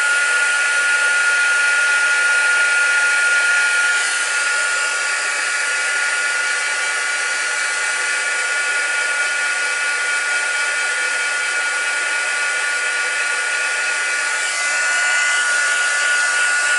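A hair dryer blows over a watercolour painting in a steady, close, continuous airy whoosh that runs unbroken, shifting only slightly in tone, with no talking.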